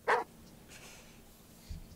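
Dog whimpering in the horror video game Phantasmagoria, a single short, fairly loud whine near the start, followed by low background noise and a soft thump near the end.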